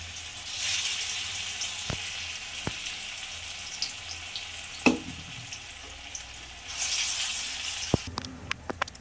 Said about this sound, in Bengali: বড়াগুলো ভেজে নেব, একটু বড় বড় করেই করবো বড়াগুলো।